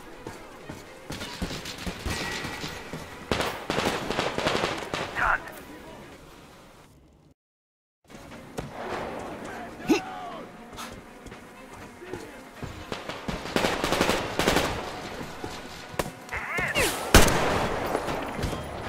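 Gunfire in a Metro Exodus firefight on the Volga: repeated sharp shots and bursts hit throughout, broken by a short silent gap, with voices talking and calling out between them.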